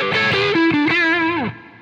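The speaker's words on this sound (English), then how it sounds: "don't be afraid to add reverb" Electric guitar notes ring out drenched in reverb, a short melodic phrase of sustained, bending tones that trail off into a wet decay, heard alone without talk.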